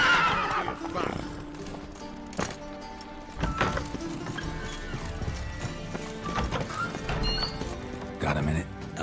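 Roach, Geralt's horse in the video game The Witcher 3, whinnies and clip-clops along in game audio under intermittent talk, with scattered hoof thuds and a louder burst near the end.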